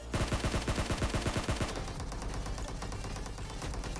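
Rapid automatic gunfire in the PUBG Mobile video game, a fast burst of about a dozen sharp shots followed by a continuing dense rattle of fire.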